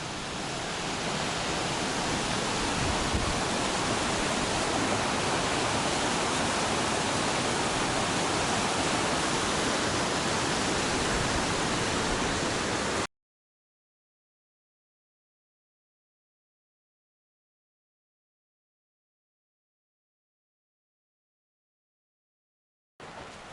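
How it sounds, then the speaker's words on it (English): Spade Creek, a mountain stream on the Pacific Crest Trail, rushes beneath a small bridge in a steady, loud, broadband wash of water for about thirteen seconds, then cuts to silence before a brief return at the end. "This here is Spade Creek at mile 224."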